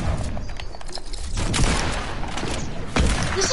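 Sniper rifle fire in a video game: a couple of heavy, booming shots stand out against a dense, continuous wash of loud gunfire and battle noise, with no talking.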